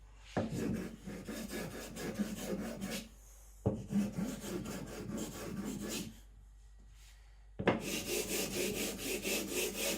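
Corners of an Eden Kanso Aogami gyuto knife being rounded on a sharpening stone: close, steady rasping strokes in three long bursts separated by short pauses, with no talking.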